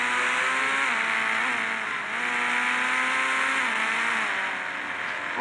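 A fast car in a racing video game revs hard, its engine whine climbing and dropping through gear shifts, loud and continuous throughout.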